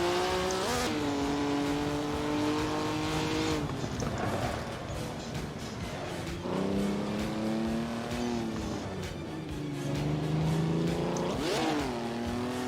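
Engines of 1955 Formula 1 race cars, including a Maserati, roar through the Monaco race in Assetto Corsa. Their pitch climbs and drops sharply with each gear change and pass, loud and continuous.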